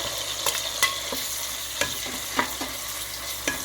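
Ground masala paste fries in oil with softened tomatoes for a country chicken biryani, a continuous sizzle broken by scattered scraping clicks of a spoon stirring the pan, close and with no talking.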